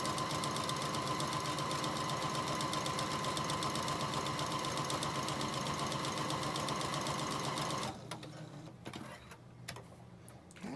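Sewing machine running steadily for about eight seconds, stitching fabric corners for homemade pattern weights, then stopping into quiet handling noises.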